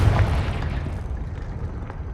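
Confringo spell explosion in Hogwarts Legacy: a single loud, deep boom at the start that decays into a rumbling, crackling tail over about two seconds.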